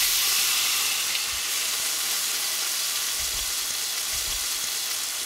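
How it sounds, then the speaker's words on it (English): Potatoes frying in oil on a stovetop, cooked crisp like hash browns, give a steady, loud, close sizzle and hiss that runs unbroken from start to end, with no voices. "We're gonna grab our potatoes, which they're gonna be cooked nice and crispy,"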